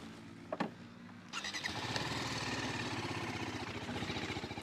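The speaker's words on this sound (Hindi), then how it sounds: "आप एग्जॉस्ट का साउंड तो सुना दो। अभी सुनाते हैं आपको।" A TVS Apache RTR 310 motorcycle starts up and settles into a steady idle, its exhaust burbling evenly and close by, with no talking.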